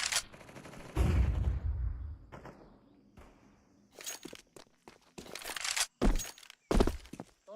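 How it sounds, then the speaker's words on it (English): Grenade and flashbang detonations in Counter-Strike 2: a loud, rumbling blast up front, then a run of sharp, cracking bursts in quick, uneven succession, close and punchy, with no voices. "I'm throwing a grenade. Flashbang."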